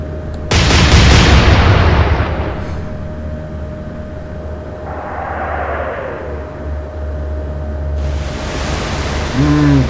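Naval gunfire in the Atlantic Fleet video game, one loud heavy cannon blast followed by a long rumbling decay, a shell whistling through the air, then another burst of noise near the end.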